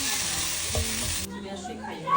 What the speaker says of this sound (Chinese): 听说把萝卜煎一下会更好吃，我今天来试一下，不用放油，直接给它翻面。